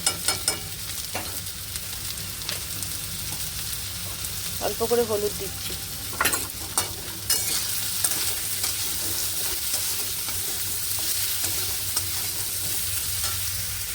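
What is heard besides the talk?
potatoes frying in oil in a pan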